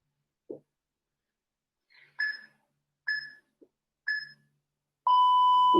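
A workout timer gives a short series of evenly spaced electronic beeps, about a second apart, then ends with one longer sustained tone as it runs out; a few faint soft sounds sit between them.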